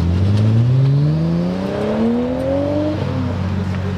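A Nissan S14 at an Ace Cafe Japanese car night revs hard, its engine note climbing steadily and loudly up close before easing off near the end, with no talking over it.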